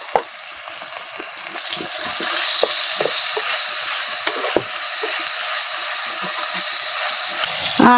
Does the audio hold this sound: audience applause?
no